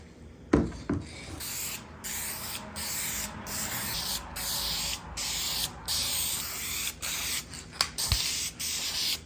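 A can of Universal Black Duplicolor perfect-match spray paint hisses in a series of short bursts with brief gaps, close up, while parts of an RC snowmobile headlight assembly are painted. No one speaks.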